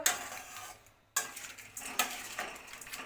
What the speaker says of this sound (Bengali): এবার আমি চাল দিয়ে একটু নাড়বো